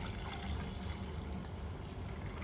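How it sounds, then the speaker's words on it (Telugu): Water is drained off washed rice and lentils, a steady, soft pouring trickle running continuously and evenly throughout. "నీళ్ళు తీసేస్తున్నాను, ఇవి తీసేసి బియ్యం పప్పు వేసుకుందాం."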